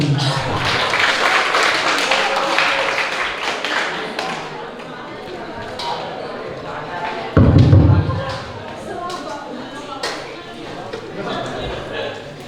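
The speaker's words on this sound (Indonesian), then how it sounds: "Tepuk tangan buat saya." Students at a school health outreach session applaud in a hall, mixed clapping and thumps under loud overlapping voices, with a brief louder burst partway through.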